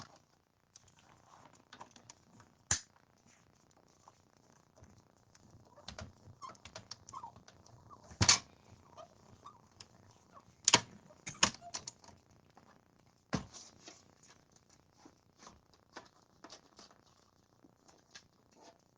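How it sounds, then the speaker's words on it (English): A die cutting machine cuts out a green shape, giving quiet scattered clicks and patter with a few sharp louder cracks and rattles spread across a long stretch, alone without speech. "we're just going to die cut him out"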